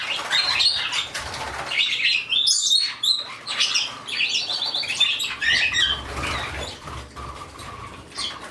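Parakeets and a cockatiel flap their wings and chirp nearby in a flock setting, with busy bursts of fluttering and bright, high tweets that continue densely throughout and carry no speech.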